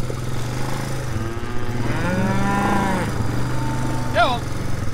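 Cattle being herded back to their paddock give a long, loud moo with a rising, drawn-out call near the end, over the steady drone of a quad bike engine, with no talk.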